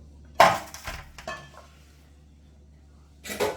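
In a kitchen, a metal pan is set down with a sharp clank, followed by a few lighter knocks and scrapes as it is handled, then another clatter at the end; quiet room otherwise.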